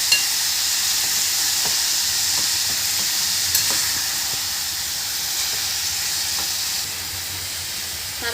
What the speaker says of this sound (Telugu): నెక్స్ట్ మంచిగా కలుపుకోవాలి ఫ్రెండ్స్.